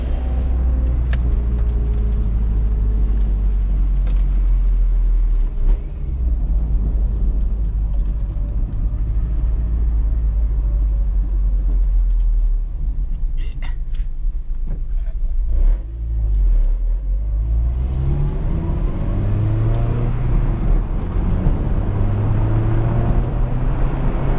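A Honda Civic Si on Nexen tyres laps the Willow Springs race track, its engine droning loud and continuous from inside the cabin, rising and falling through shifts and revving up strongly toward the end.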